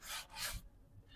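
Abrasive rasping on a rattan furniture frame during sanding, two close back-and-forth rubbing strokes followed by a short pause and the start of another, faint and with no talking.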